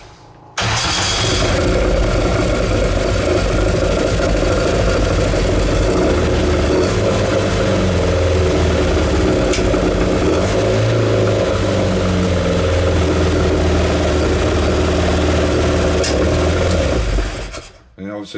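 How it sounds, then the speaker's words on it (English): A classic Mini's engine cranks and catches, then settles into a steady, close, fairly loud idle with a low throbbing hum that runs unbroken for about sixteen seconds before cutting off. "start the engine"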